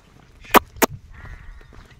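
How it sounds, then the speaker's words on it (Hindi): Sheep and goats on a Himalayan mountain trek to Rudranath in Uttarakhand let out two short, close bleats in quick succession over a low outdoor rumble. "यहाँ पे भेड़ ही भेड़ है"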